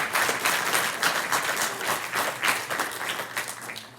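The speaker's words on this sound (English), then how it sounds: "Would you please join me in a round of applause?" Banquet guests at an FFA chapter dinner give a round of applause, dense and fairly close, many hands clapping in an even steady patter that tapers slightly toward the end.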